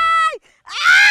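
A person screams loudly on a water adventure ride in the Philippines, two sharp rising-and-falling shrieks split by a brief near-silent gap, close and intense.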